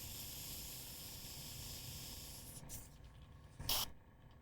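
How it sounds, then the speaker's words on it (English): An airbrush gives a steady hiss of spraying paint, close and fairly quiet. The hiss tapers off midway, followed by a brief louder burst of air near the end. "like any airbrush, it just means that the needle is a little stuck right there in the cup"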